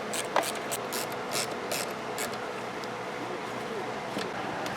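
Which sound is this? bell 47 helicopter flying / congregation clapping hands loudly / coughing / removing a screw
removing a screw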